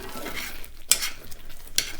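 Sausage gravy stirred in a pan, with a soft continuous scraping and simmer texture and two sharp utensil clinks against the pan near the end.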